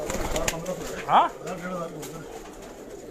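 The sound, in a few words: high-flyer pigeons cooing on a Karachi rooftop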